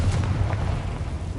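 The Confringo blasting spell going off in Hogwarts Legacy, heard as a short, heavy, rumbling explosion with a deep low boom that carries through the whole moment, loud and up close.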